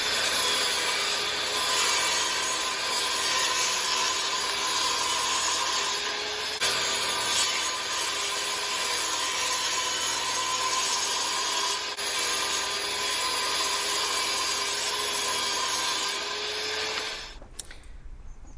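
A wooden bed slat is cut to size for an expandable bed in a micro RV, a steady loud rasping saw noise running continuously for many seconds before stopping abruptly near the end, with no voices.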